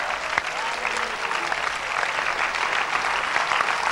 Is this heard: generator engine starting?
no